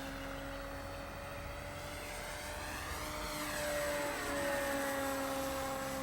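A Durafly Cessna 182 RC model plane flies at half throttle, its steady propeller buzz droning at a distance with a faint rising and falling pitch as it passes.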